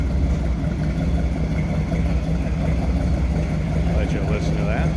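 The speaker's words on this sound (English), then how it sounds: "Just get a nice rumble coming out of this" A 1954 Chevrolet 3100 pickup with a 350 small block and side exit exhaust idles steadily with a low, continuous rumble, close and constant throughout, with no voices over it.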